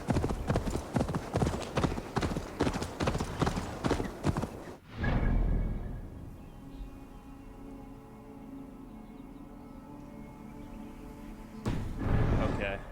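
Steady clip-clop of horse hooves at a trot while riding in Assassin's Creed Valhalla, close and rhythmic for several seconds, then a pause with ambient hum before the hoofbeats pick up again.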